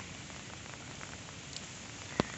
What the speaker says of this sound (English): And it's super rainy.